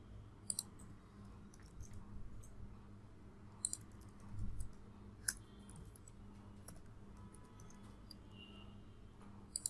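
A few sharp, sparse computer mouse clicks over a quiet room hum while someone navigates AWS load balancer settings. The clicks are spaced several seconds apart, with a pair near the end.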